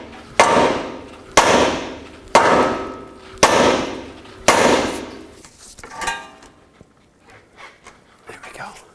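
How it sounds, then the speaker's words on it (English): A hammer strikes the steering knuckle of a 2004-2008 Acura TL to separate the ball joint, five heavy ringing metallic blows at roughly one-second intervals, close and loud, followed by quieter rattling and faint handling noises. "take a hammer, hit the knuckle so that you can separate the control arm from the ball joint"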